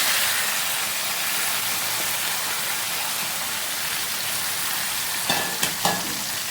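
Marinated chicken pieces for biryani fry in leftover hot oil in a pan, giving a steady, dense sizzle throughout with a few sharp clatters near the end.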